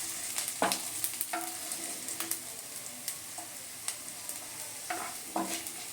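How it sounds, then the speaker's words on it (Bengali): Garlic, onion and green chilli frying in a pan, a steady bright sizzle with scattered clicks and scrapes of stirring throughout, close and fairly loud. "এবার একই সঙ্গে রসুন, পেঁয়াজ, কাঁচা লঙ্কা ভেজে নেব।"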